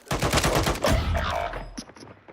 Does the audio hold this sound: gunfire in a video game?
yes